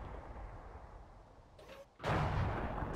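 A tank cannon fires in the World of Tanks video game, one heavy booming shot that erupts suddenly after a brief lull, loud and close, over a low background rumble.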